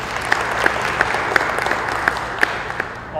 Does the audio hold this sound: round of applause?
yes